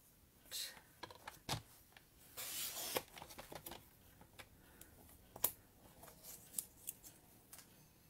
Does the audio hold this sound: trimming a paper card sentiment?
yes